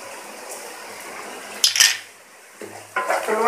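Metal spoon clinking and scraping against a pan while bottle gourd bhurta is stirred and fried, a couple of short bursts of clatter over a quiet background.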